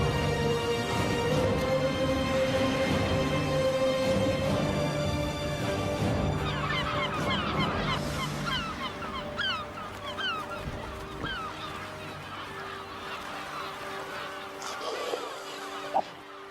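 Many gulls call over a busy seal pupping colony, honking and yelping cries layered densely and loudly throughout, fading slightly toward the end.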